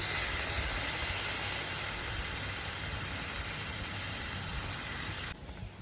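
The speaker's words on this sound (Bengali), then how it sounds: "ঝোল ফুটে গেছে এবার ডিমটা দিয়ে দিচ্ছি" Curry gravy with garam masala and water comes to a boil for egg curry, giving a loud, steady hiss of bubbling and steam that holds throughout before dropping slightly at the very end.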